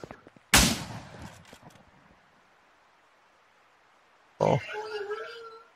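A pig in the video game Miscreated grunts and squeals in two sharp, loud bursts separated by a quiet stretch, the second burst trailing into a tonal squeal.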